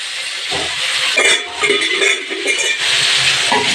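Chopped ginger, ginger paste and tomato go into hot oil tempered with whole cumin and a dried red chili, producing a loud, bright sizzle that surges and eases unevenly for a few seconds.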